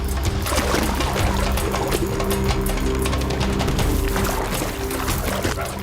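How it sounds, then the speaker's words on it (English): A crocodile splashes and thrashes in water while eating a wallaby, giving a continuous, loud churning of water with rushing and pouring sounds and no speech. "When they hear the noisy splashing, other crocodiles slide into the water in hopes of snatching the remains of the feast."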